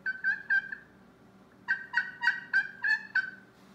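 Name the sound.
aluminum turkey call, high-pitched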